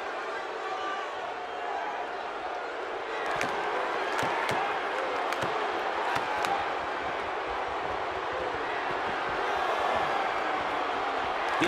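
A sold-out arena crowd in the WWE 2K16 wrestling video game roars steadily throughout, with sharp impact thuds from the ring cutting through the constant cheering.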